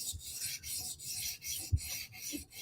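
A Spyderco knife blade drawn over a sharpening stone at a 17.5-degree angle, giving a steady, close rasping rub in repeated short strokes with one sharper scrape partway through.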